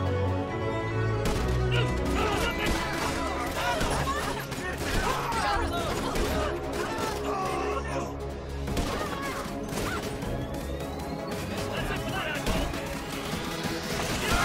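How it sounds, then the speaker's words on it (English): Rapid bursts of gunfire from a newly acquired weapon in the video game GTA V crack repeatedly over a busy mix of in-game sound, with sharp shots and crashes packed closely together. "I'm gonna test out my new gun."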